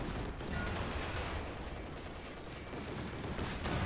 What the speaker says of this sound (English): eventually the heavy bolters will open up the sides and hole, and it'll just start firing